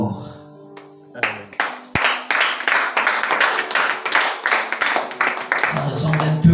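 A church congregation claps steadily and cheers in acclamation of the Lord, a loud, dense run of many hands that builds after a brief quiet opening and holds for several seconds, with a sustained tone in the background.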